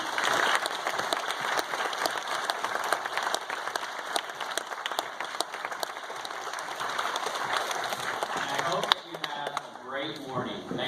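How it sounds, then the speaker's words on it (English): A crowd at a Veterans Day recognition event applauds the veterans with sustained, dense clapping that fades near the end as a voice begins to speak. "But why don't we give one more round of applause for the veterans."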